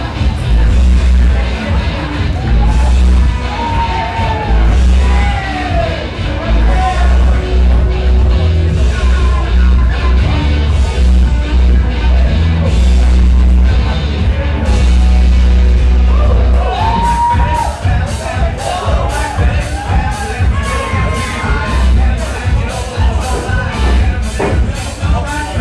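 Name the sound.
wrestling crowd cheering for wrestler Suntan's entrance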